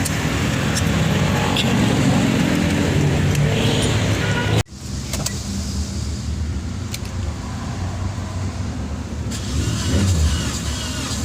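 A Toyota Vios that sat submerged in floodwater for about two weeks cranks and runs with a loud, rough, broadband engine noise, cut by a sudden brief drop midway before continuing steadily.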